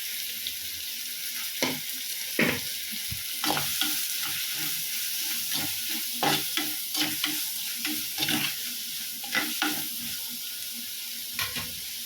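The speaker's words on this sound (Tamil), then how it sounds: "போட்ட வெங்காயம் நல்லா வதங்கிருச்சு" Onions fry in a pan, with a soft steady sizzle and repeated clanks and scrapes of a spoon stirring them at an irregular rhythm, close and clear.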